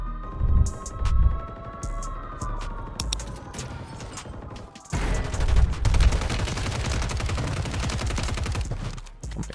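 Rapid SUPERI 46 submachine gun fire in Warzone 3 on Rebirth Island, loud close bursts of automatic shots with a tonal game sound underneath, then a dense continuous stretch of gunfire and impacts.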